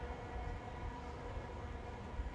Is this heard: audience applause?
no